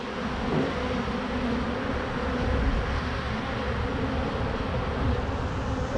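Honey bees from an opened, disturbed hive drone in a dense, steady, close buzz that fills the whole stretch, a continuous swarm sound with no talking.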